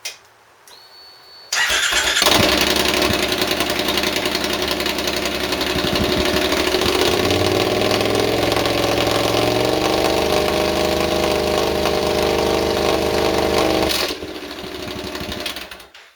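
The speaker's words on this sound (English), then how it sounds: "Do a 3000 rev test." After a short quiet start, a Triumph Scrambler motorcycle on open pipes fires up and holds a loud, raspy rev near 3000 rpm for about twelve seconds. It then drops back toward idle, close and with no talk over it.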